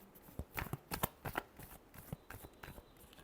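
Tarot cards being shuffled by hand in a rapid run of crisp riffling flicks and papery slaps, close and fairly quiet, with no talking.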